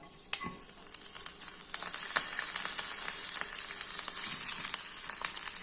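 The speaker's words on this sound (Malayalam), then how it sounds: "അതിലേക്ക് നമ്മുടെ കടുക് വറുത്തത് ഇട്ട് കൊടുക്കാം." Fried mustard seed tempering crackles and sizzles as it is poured over sweet pineapple pachadi curry, a steady bright frying hiss with scattered sharp pops, close and moderately quiet, no one talking.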